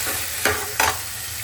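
Onions, green chillies and potatoes fry together in a pan: a low, steady sizzle broken by two quick scraping stirs of a spoon, close by and with no talking.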